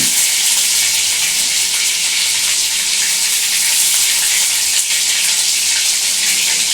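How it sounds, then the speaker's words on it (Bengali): Potatoes frying in ghee in a pan, giving a loud, dense, steady sizzle that stays close and unbroken from start to finish. "এবার আমি এইখানে আলু একটু দিয়ে দেবো ঘি"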